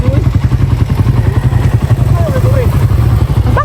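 A motorcycle engine runs with a close, loud, rhythmic low putter and clatter, heard continuously while people talk over it.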